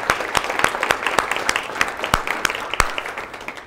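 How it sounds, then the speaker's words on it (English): A university lecture audience breaks into loud, sustained applause, a dense mix of many hands clapping with sharper individual claps standing out. "So let's give Kelly another round of applause and thank you."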